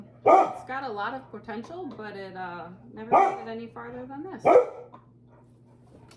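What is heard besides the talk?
dog barking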